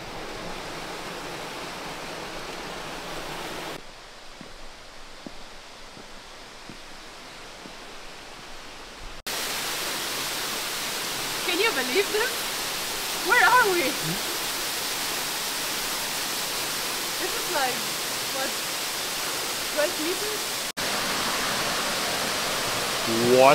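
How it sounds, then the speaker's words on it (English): Distant waterfalls in Central Java give a constant hissing roar that fills the scene, with a quieter stretch partway through and faint voices over the rush. "you can hear the waterfalls in the distance."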